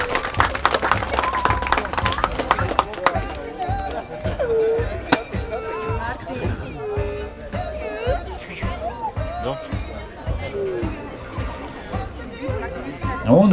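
Applause for award winners at a Latvian motorcycle trial GP ceremony in Grobiņa: steady crowd clapping running under a loud announcer's voice, with rising claps near the end.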